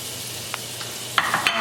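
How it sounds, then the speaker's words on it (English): Garlic stir-fried in butter over low heat for Hong Kong style borscht, a soft steady sizzle broken near the end by a few sharper bursts of stirring and spatter, with no voices. "And stir fry around 30 seconds."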